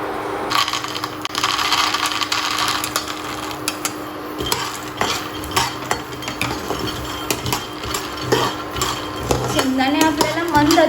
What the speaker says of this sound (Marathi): इथं मी इंडक्शनवरती कढई तापत ठेवलेली आहे तर आता आपण सर्वात आधी शेंगदाणे भाजून घेऊयात